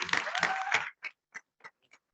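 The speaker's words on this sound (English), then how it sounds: "Can we give him a round of applause?" A meeting audience at a school board session claps briefly, a short burst of applause that quickly thins into a few scattered, isolated claps before stopping.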